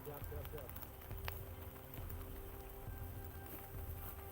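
Steady rain falls outdoors with a dense, continuous patter close by, holding constant throughout with no pauses.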